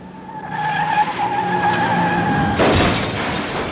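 A school bus's tires skid and squeal loudly as it slides, then a harsh crashing burst cuts in near the end.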